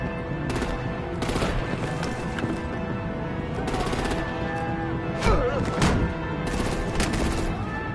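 Gunfire and artillery in the Batman Telltale game, rapid bursts of shots in several clusters over a continuous rumbling background, with a heavier thud in the middle.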